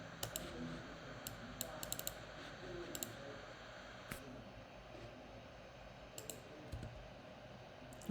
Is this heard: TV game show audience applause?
no